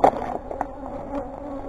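Bees buzz around a 33-frame horizontal beehive, a close, steady hum with individual insects whirring past, slightly louder at the start and then settling into a continuous drone.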